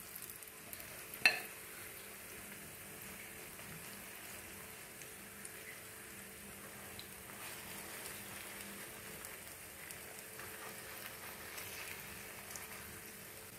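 Fish fries gently over medium heat in a pan, a soft continuous sizzle at low level with one sharp tap near the start and otherwise an even hiss throughout.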